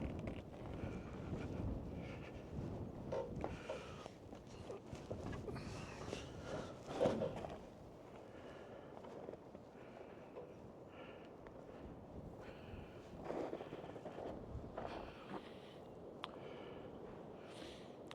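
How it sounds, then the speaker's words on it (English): Strong wind gusts across an outdoor log pile beside a birch burl, a steady roaring rush with buffeting on the microphone that swells and eases, alone with no talk. "still pretty windy"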